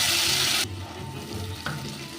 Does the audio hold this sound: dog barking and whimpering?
no